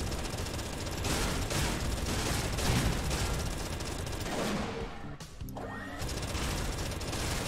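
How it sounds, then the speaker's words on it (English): An autocannon in the space-combat game EVERSPACE fires rapid, continuous bursts while weaving through a debris field, a dense, loud rattle that breaks off briefly near the end before resuming. "we are going to continue doing that with our autocannon"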